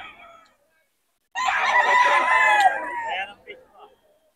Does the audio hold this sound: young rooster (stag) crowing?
yes